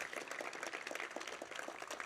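Faint, distant applause from an audience at the St. Louis announcement of the 2028 Olympic marathon trials, honoring donors with a steady wash of many clapping hands.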